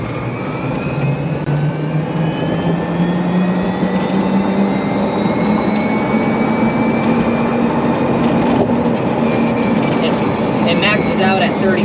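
An EZGO RXV electric golf cart accelerates toward its 32 mph top speed, producing a steady rising motor whine over continuous wind and road rumble that stays loud and unbroken throughout.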